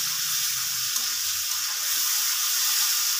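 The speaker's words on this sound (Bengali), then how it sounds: "মাছটাকে খুব ভালোভাবে কষিয়ে নিচ্ছি।" Stinging catfish sautéing in a pan for a bottle gourd leaf curry, a steady, close, continuous sizzle and hiss of frying oil with faint stirring underneath, no voices.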